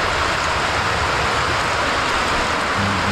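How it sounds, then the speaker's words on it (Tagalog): Heavy rain pouring down outdoors on a farm, a loud, dense, unbroken hiss of falling water that stays constant from start to finish. "malakas ang ulan"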